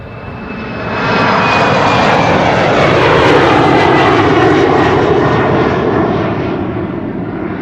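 A 16-year-old KLM Embraer 190 airliner at Amsterdam Schiphol Airport swells into a loud, sustained jet-engine roar that holds steady before easing slightly near the end.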